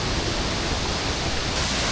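A two-tiered waterfall in Sri Lanka roars as a dense, steady wash of falling water, loud and unbroken, with no voices.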